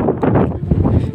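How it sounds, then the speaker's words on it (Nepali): Strong mountain wind at Bethanchowk buffets the microphone in a loud, continuous roaring rush that lasts about a second, with no voices. "हाम्रो यहाँ झन्डा हेरौँ फरफराको यस्तो हावा लाग्छ यार"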